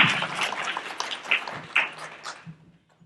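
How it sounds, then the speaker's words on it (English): An audience at a student leadership luncheon applauds its alumni panelists, a moderate spread of hand claps with a few louder pops, thinning out and fading to near silence at the end. "Can we clap for our panelists, please?"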